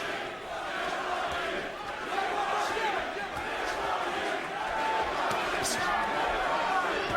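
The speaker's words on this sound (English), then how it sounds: "Crowd chanting Triple G, Triple G." Boxing arena crowd at a Gennady Golovkin fight chanting "Triple G" in a rhythmic roar, with a commentator talking over it.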